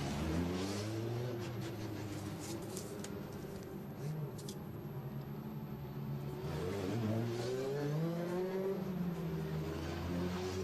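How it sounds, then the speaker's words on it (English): Formula 3 race cars drive out of the pit lane at the Spielberg circuit, their engines droning and rising in pitch as several cars pass steadily one after another, loud and continuous. "The cars pouring their way through the pit lane, onto the circuit, and then up towards the grid."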